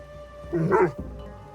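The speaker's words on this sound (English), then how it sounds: "you would make a great guard dog" A dog in Assassin's Creed Shadows gives a short bark and whimper, a single brief yelp over a quiet musical background.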